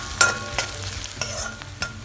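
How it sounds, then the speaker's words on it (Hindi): Spring onion whites sauté in a pan with a faint sizzle, broken by several sharp clicks and scrapes as a spoon stirs them, close and without talk. "और इसे सौते कर देते हैं।"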